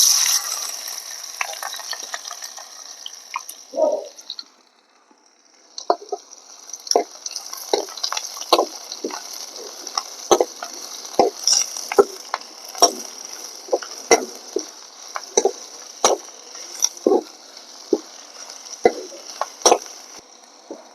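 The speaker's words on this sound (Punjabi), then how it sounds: "ਲਓ ਆਪਣਾ ਗੰਡਾ ਭੁੱਜ ਗਿਆ" Thinly sliced onions frying in hot oil with cumin in a pan, a steady sizzle broken by regular clinks and scrapes of stirring in a village kitchen.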